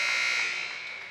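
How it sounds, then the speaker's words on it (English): A loud, steady electronic buzzer sounds at the end of a period during a women's ice hockey tournament game, a single sustained tone that fades slightly over about a second with no talk. "A dangerous clearing attempt by Osborne right at the buzzer."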